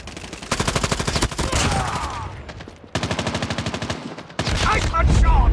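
Rapid automatic gunfire from a first-person shooter in a Hardpoint match, loud, close bursts of shots separated by short gaps, with faint voice callouts in places.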